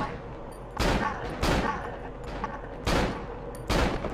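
Gunshots from the horror video game Cry of Fear: four loud, sharp blasts spaced unevenly across a few seconds over a low droning game background.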